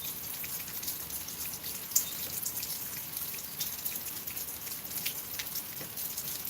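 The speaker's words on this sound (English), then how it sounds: "It's raining." Rain falls steadily with a dense, even patter of drops hitting a surface, the occasional sharper drip standing out, heard without any voices.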